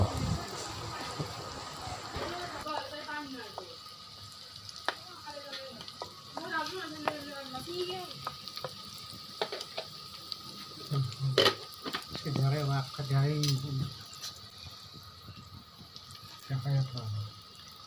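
Spices for an Assamese-style mutton matka fry in hot oil with a steady, fairly close sizzle and occasional stirring, while a voice talks over it for much of the time.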